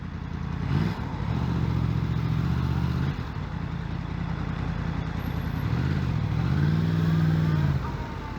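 A Yamaha MT-10 motorcycle with its stock exhaust runs continuously for several seconds, its engine note rising and falling as it revs, close and fairly loud with no one talking.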